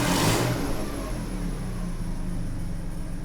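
A Mercedes W210 engine runs steadily after repair, with a brief rise in revs at the start settling into an even, close hum with no talk over it.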